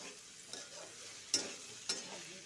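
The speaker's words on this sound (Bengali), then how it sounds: "আবার ভাজবো ভালো করে" Cashew paste with cumin and coriander powder fries in a pan, a soft sizzle broken by two or three sharp scrapes of a spoon stirring the spices.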